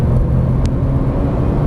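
A Porsche 991 Turbo S on a driving course under throttle gives a loud, steady close engine rumble and whir that holds throughout without a clear rise.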